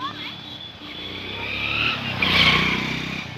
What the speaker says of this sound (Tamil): வண்டி புஷ்ஷுன்னு போகுது, ஆனால் கஷ்டன்னு போகாது.